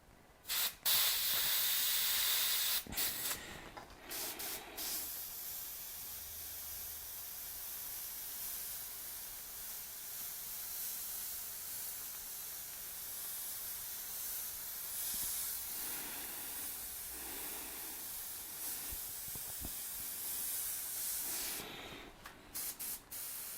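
A cheap airbrush sprays paint in a continuous airy hiss, with a few short bursts and brief stops at the start and end and a steadier, softer stream through the middle.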